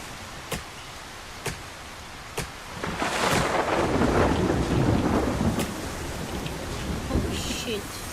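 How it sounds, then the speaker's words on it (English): Thunderstorm in the Solarpunk survival game: a few sharp cracks, then a long rolling rumble of thunder over steady rain and wind, loud and close, with faint background sound but no clear talking. "I'm scared of the storm"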